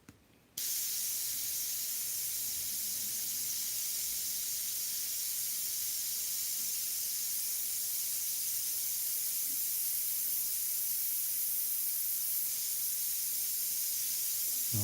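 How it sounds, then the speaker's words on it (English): Iwata airbrush spraying Createx paint onto Claybord for a red Corvette Stingray painting: a steady, soft, continuous hiss that starts abruptly after a brief pause and holds evenly throughout, close and fairly quiet with no talking. "So what I'm going to do is I'm going to spray a little bit off of this edge."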